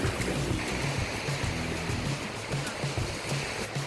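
Sea waves washing up on a beach, a continuous close wash of surf and splashing water with low rumbling, fairly loud and without speech.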